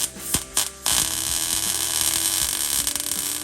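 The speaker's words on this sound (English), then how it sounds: "So we're gonna go ahead and weld it." Steady crackling buzz of welding on a steel track bar mount for a Jeep WJ Grand Cherokee, starting after a few short bursts and then running continuously and close for several seconds, no talking.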